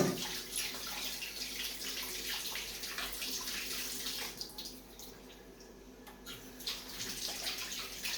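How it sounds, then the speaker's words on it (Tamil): Raw fish is washed in water with turmeric powder. Continuous splashing, sloshing and running water go on for the whole stretch, close and moderately loud, with no talking. "கடைசியில் எல்லா மீனையும் சேர்த்து ஒரேடியாக இன்னொரு வாட்டி கழுவி எடுத்துக்கலாம் மஞ்சள் தூள் போட்டு"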